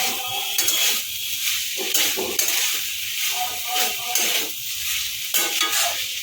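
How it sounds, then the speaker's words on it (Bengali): Fish scraps being stirred into a winter vegetable chorchori curry in a pan, with a steady sizzle and rhythmic scraping of the spoon against metal repeating through the stretch, close and fairly loud. "ভালো করে মাছটা দিয়ে মেশাবো"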